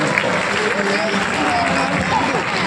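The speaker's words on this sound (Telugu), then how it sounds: "కార్యకర్తలు అందరికీ కూడా ఒకసారి చప్పట్లు కొట్టండి" A large crowd of party workers and devotees at a temple yajna-shala gathering applauds steadily throughout, a dense continuous wash of clapping with faint voices mixed in.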